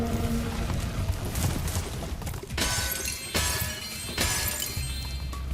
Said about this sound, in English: Spyro must get fucking massive migraines just smashing his head into metal pots